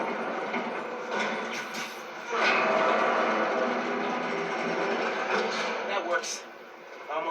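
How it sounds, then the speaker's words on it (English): Trains being moved on a railway turntable in a video game, with a mechanical rumbling and clattering of railcars that swells midway and stays under a speaking voice. "Spin the turntable, pull trains with webs."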